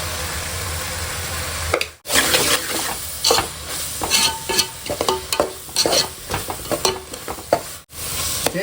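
Chilli powder being stirred into a goat head curry in a sizzling pan, with steady scraping and stirring strokes over a continuous fry sizzle, close and fairly loud, two brief breaks in the middle.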